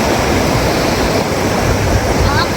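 A cold mountain stream of bluish-white water near Sonamarg on the Zojila Pass rushes over pebbles, a steady, close, broadband wash with no breaks.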